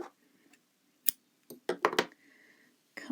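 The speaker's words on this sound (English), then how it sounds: "Cut my yarn." Scissors snipping crochet yarn after fastening off a waffle stitch granny square, a few sharp close snips and clicks in a quiet room.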